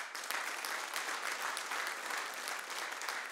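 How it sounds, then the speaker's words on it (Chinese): Steady, full applause from an audience fills the hall at the first Chinese Basketball Hall of Fame induction ceremony, a dense wash of clapping sustained evenly throughout without pause. "我们一起把掌声献给在天堂的穆铁柱指导"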